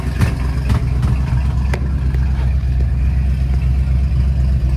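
A restored 1964 Ford Galaxie lightweight with a factory 427 R-code V8 and electric exhaust cutouts idles nearby, giving a deep, loping rumble with a steady uneven pulse and occasional sharper exhaust pops.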